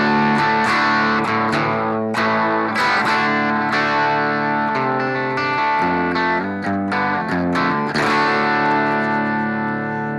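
Electric guitar on the bridge pickup through distortion and effects, from a Gibson Les Paul Studio, Yamaha Revstar RSP20CR or Epiphone Casino, plays loud, steady chord strums and riffs up close for about ten seconds, with no voices.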